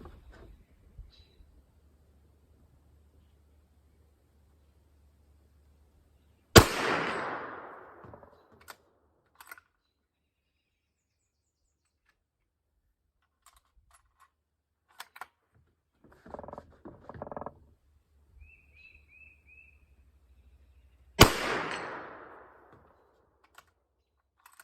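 A Savage Axis II rifle in 300 Blackout fired at targets outdoors, two sharp loud shots far apart with short echoing tails, plus quiet handling clicks and rustles between them.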